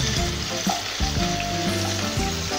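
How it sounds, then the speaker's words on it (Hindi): Paneer frying in a kadhai, with a steady close sizzle of hot oil running throughout and occasional soft stirring clatter. "चलिए फिर मैं इसको फ्राई करती हूँ"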